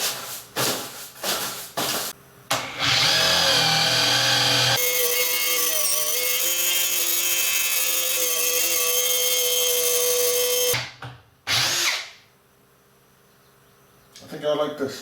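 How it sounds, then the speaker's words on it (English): A power drill with an auger bit bores a hole through wood near an outlet box. There is a sustained loud whirring grind of about eight seconds, framed by short bursts of the motor and nearby talk. "I'm going to try the auger bit for the next one."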